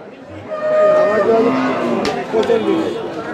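A Sindhi breed cow lets out a long, loud moo at a crowded cattle market, close to the microphone with faint crowd murmur behind.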